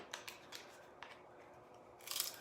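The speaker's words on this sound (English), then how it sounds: "I did not realize that these wood shapes from Dollar Tree are so easy to cut." Scissors snip through thin Dollar Tree wood craft shapes in a few crisp, separate cuts, close and fairly quiet, ending in a brighter crunching cut.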